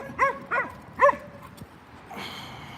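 A dog met on a walk gives three short yipping barks in a quick rhythm, fairly close, followed by a brief whimper and outdoor background noise.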